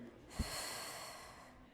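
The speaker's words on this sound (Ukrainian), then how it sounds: "Робимо вдих через ніс, видих." During a beginner oxysize breathing exercise, a person takes a sharp, close sniff in through the nose, then lets out a long, soft, airy exhale.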